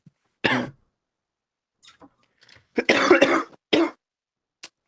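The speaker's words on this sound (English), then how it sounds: "sorry for the cough" A few harsh coughs and throat-clearing bursts close to the mic, separated by silence, with a couple of smaller rasps in between.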